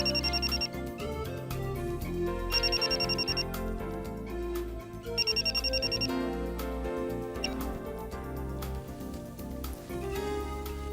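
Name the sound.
mobile phone ringing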